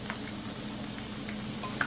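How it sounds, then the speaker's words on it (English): Seasoned Cajun fries frying in bubbling oil give a quiet, steady sizzle with small crackles and pops scattered across it. "you're gonna fry these roughly for about 10 to 15 minutes"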